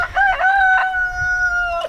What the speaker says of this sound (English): Come next to the rooster and he starts crowing.